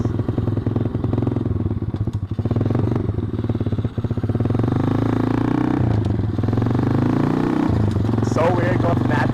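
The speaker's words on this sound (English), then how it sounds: "Busting up the SSR 110 now." A 2013 custom SSR 110cc manual pit bike with an FMF pipe revs hard while being ridden, its loud buzzing engine rising and dropping through gear changes, with a rider talking over it.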